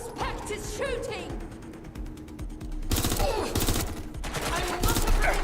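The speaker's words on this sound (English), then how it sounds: "Suspect is shooting." Rapid bursts of gunfire in Watch Dogs: Legion, with dense automatic volleys and a mechanical clatter that keep going across the stretch and grow louder toward the end.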